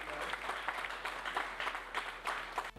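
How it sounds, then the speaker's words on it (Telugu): Steady audience clapping fills a first-anniversary success meet at a Nagole branch, a dense, continuous patter of many hands at moderate distance with no pauses, going on throughout. "So please first clap for the leader."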